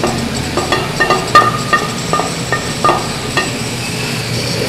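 An egg goes into a hot pan for egg fried rice, a soft sizzle under a string of sharp utensil clicks and taps against the pan, close and moderately loud, with no speech.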